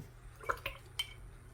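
A wet paintbrush is rinsed in a small cup of water and dabbed against it while mixing apricot-orange paint, giving three quick, faint watery clinks and drips close by.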